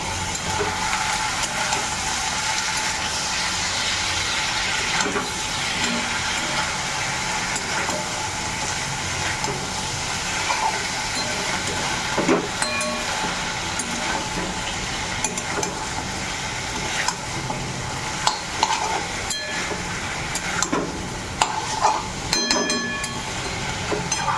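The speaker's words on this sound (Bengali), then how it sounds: "পেঁয়াজ আদা রসুন ওর সাথে চিকেনটা দিয়ে দিলাম" Chicken goes into a pan of frying onion with ginger and garlic, giving a steady, dense sizzle with scattered stirring clatters and utensil knocks that grow sharper toward the end.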